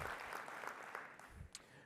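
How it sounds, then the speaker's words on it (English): Audience applause at an ISS R&D conference awards ceremony for the contestants and winner, a low, fairly quiet steady patter of clapping that thins out toward the end, with faint voices underneath. "another big round of applause for all the contestants and our winner"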